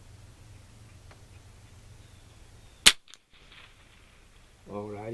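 A single sharp gunshot fired at a UBR shooting target, one loud crack that stands alone against quiet outdoor ambience, followed by brief silence.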